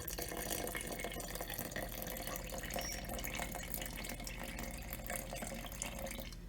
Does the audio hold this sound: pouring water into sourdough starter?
yes